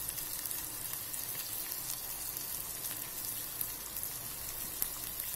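Sliced onions fry in hot oil, giving a dense, even sizzle and crackle that holds steady throughout, close and moderately loud with no speech.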